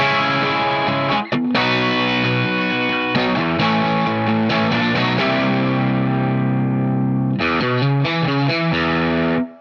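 A distorted electric guitar plays the chugging pre-chorus riff with effects, steady and loud, briefly pausing before resuming with choppy repeated chords.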